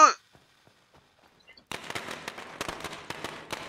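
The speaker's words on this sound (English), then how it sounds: "I have a firecracker now." Firecracker set off in the zombie survival game State of Decay: a short crackle at the start, then from about 1.7 s a sustained run of sharp popping bangs with irregular rhythm, loud and close.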